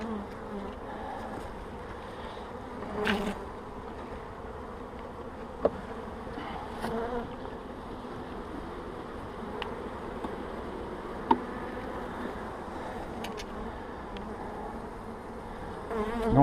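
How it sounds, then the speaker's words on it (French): Large population of honeybees humming in an opened hive during a spring inspection, a steady close drone with occasional louder passes and small clicks, no talk over it. "grosse population d'abeilles"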